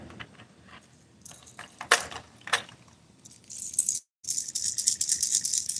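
A Rattle Trap bass fishing lure shaken by hand gives bursts of bright, metallic rattling, first sparse and scattered, then a brief pause, then a fast continuous clatter up close.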